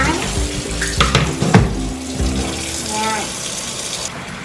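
Laundry rinsing under a running tap, with steady splashing water and swishing cloth, briefly broken by a voice speaking close by.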